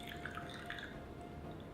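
Faint trickle and drip of hot water poured into a gaiwan to warm it, soft liquid splashes in a quiet room with no talking.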